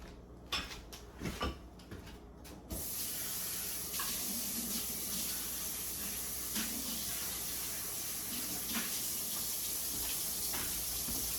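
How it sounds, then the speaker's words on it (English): Steady hissing tap water runs over cans and lids being rinsed for recycling, starting after a few soft clunks and continuing at an even level to the end. "I rinse my cans out as well as my lids, and I put them in recycling."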